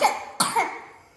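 A child coughs twice in quick succession, close and fairly quiet, each short burst fading with a slight throaty tail and no talking.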